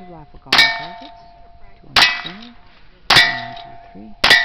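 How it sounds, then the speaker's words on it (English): Bullets strike steel gong targets at a cowboy action shooting championship stage in Texas. Four loud metallic clangs arrive at uneven intervals, and each rings on and fades before the next hit. "Shooting the raffle gong targets."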